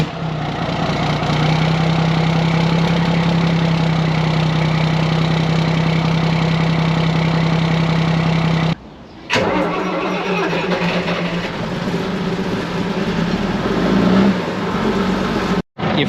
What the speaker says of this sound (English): let's get the ERF started up.